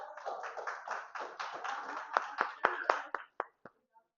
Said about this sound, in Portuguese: Palmas para Heitor, por favor.